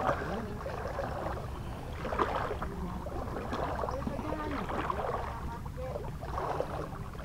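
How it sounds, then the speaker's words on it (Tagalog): A boat arrives at a seaside fish-buying spot, moving through water near the shore amid wind and lapping noise, with people talking in the background. "So, ito may bagong dating isang bangka."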